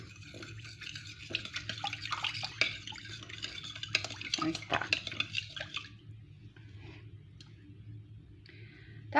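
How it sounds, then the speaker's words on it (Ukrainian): A spoon or whisk stirs khachapuri batter of whey, soda, sugar and salt in a bowl with quick, wet clicking scrapes for about six seconds, then fades to near quiet. "І також перемішую, для того, щоб сода також з'єдналася із інгредієнтами з цукром, сіллю і сироваткою."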